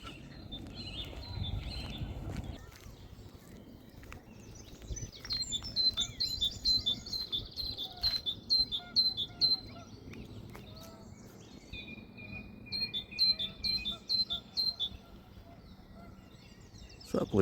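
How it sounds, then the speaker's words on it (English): Small birds sing and chirp in repeated short phrases along a canal towpath, faint to moderate against quiet outdoor ambience, with a brief rustle near the start. "There's a lot of randy birds out here looking for a partner."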